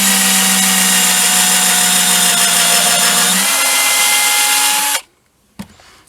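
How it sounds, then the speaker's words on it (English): Power drill boring guide holes in a speaker cabinet, a loud steady high whine whose pitch dips slightly partway through before it cuts off abruptly, followed by a quiet clunk. "What I've done is I've drilled some guide holes."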